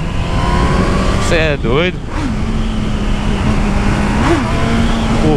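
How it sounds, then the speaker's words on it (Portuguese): A mini motorcycle engine revs and drones steadily under close, loud conversation, its pitch rising and falling in a couple of brief throttle swells. "Olha o ronco dessa moto."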